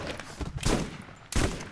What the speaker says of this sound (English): I'm doing bad with this shotgun